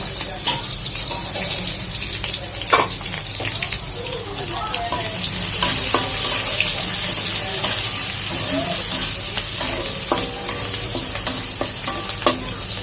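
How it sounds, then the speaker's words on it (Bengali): Greens with plenty of garlic and onion frying in a pan, a steady close sizzle with repeated stirring scrapes and clinks running throughout, getting slightly louder midway. "পেঁয়াজটা আমি লাল লাল করে ভেজে নিয়েছি"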